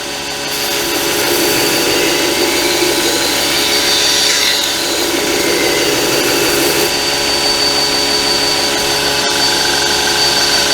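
A Reeder grinder grinds a ding out of a hardened blade, a steady, loud abrasive whir with constant high-pitched hiss running throughout, with no speech.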